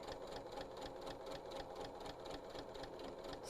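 A domestic sewing machine stitches quilt pieces in a steady, fast mechanical rhythm, its needle beat running evenly throughout at moderate, close-up volume with no voices.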